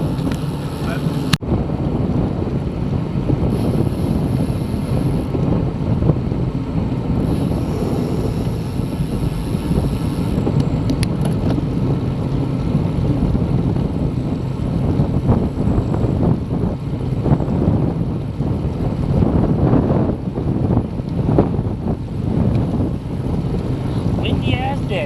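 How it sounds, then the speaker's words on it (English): Strong wind buffets the microphone in loud, gusty rumbles throughout, with a low engine-like drone underneath. "Windy ass day."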